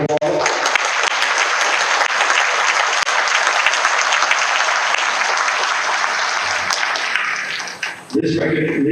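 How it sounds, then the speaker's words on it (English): Dense, sustained audience applause for Purple Heart recipients at a hometown heroes celebration, steady and loud for about eight seconds before cutting off, with a voice starting right after. "Give them a round of applause."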